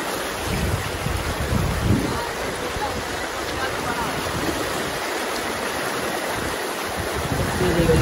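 Cold mountain stream water rushing fast in Balochistan, a loud, close and steady broadband roar and splash that fills the whole stretch without pause.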